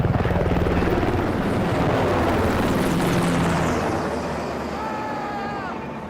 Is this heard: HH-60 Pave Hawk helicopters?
yes